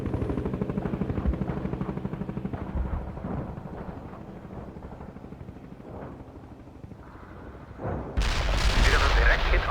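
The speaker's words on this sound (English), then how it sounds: "We can deploy and lay down a heavy barrage." Heavy artillery barrage in the strategy game World in Conflict: a run of dense, rumbling booms and blasts rolling under scattered game voices, swelling into a louder, harsher crescendo of explosions near the end.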